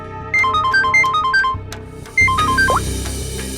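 A melodic electronic phone ringtone plays two bright repeating phrases, pausing briefly between them, loud and close with no talking.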